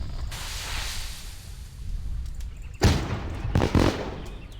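Fireworks in the video game My Summer Car go off in a hiss followed by several sharp loud bangs and crackles, with no voices.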